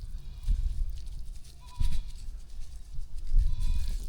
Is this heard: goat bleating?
yes